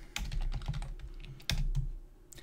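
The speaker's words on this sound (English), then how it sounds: "Now, there is another command we have to type as well." Keys on a computer keyboard clack in two quick bursts of typing as a command is entered for Windows boot configuration, close and crisp with a short pause between runs.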